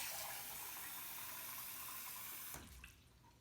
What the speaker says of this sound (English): And I'm going to do another 12 ounces of water.